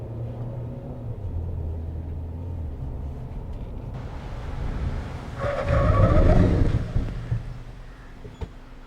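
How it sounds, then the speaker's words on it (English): A 2024 Mahindra XUV700 braking hard from 70 km/h: steady road rumble and engine drone, then a louder surge of tyre and brake noise as the SUV stops, tapering to quiet with a small knock. "Time for a braking test with the XUV700. I'll take the car to 70 km an hour."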